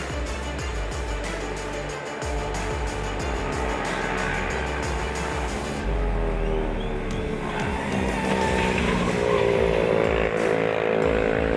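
Roaring motorcycle engines scream continuously at close range, high-revving racing motors with shifting pitch as they speed past, loud throughout with no talking.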